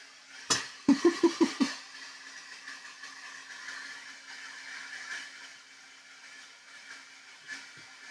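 A Sovol SV08 3D printer cools its nozzle, a faint steady fan hiss running under a quick burst of mechanical clicks and beeps near the start, with a few later taps.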